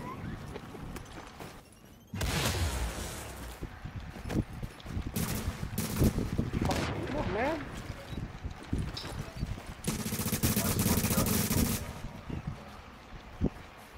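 Gunfire in a video game, bursts and single shots rattling out loud and close in several clusters, with a faint voice in the mix.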